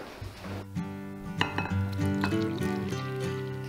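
Warm water pours into a container in a home kitchen while making pasta dough, a rising gurgling stream with a tonal pitch that climbs as it fills, preceded by a light clink of dishes.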